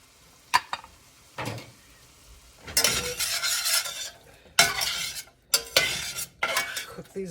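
Diced orange peppers and onion stirred in a hot pan, with a soft sizzle and scraping utensil strokes. The strokes come in bursts, some faint and some louder and close.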